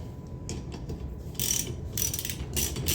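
A ratchet tightens the wiper arm nut on a Toyota RAV4, giving repeated short clicking bursts at close range over a quiet background.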